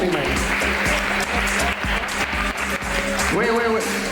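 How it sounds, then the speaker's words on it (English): An audience at a barber gathering applauds a new barber with dense, steady clapping throughout, while voices talk and call out over it. "Να το βοηθήσουμε, παιδιά, ένα χειροκρότημα, είναι καινούργιο στη δουλειά."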